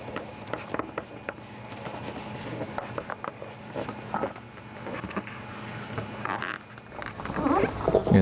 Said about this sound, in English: So squeegee, let's start tucking everything in.